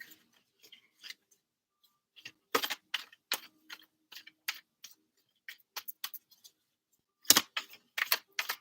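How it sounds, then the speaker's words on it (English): Tarot cards are shuffled in a quiet room, with intermittent crisp riffling and slapping bursts in irregular clusters, close and fairly soft against silence. "Let's get a proper good shuffle in."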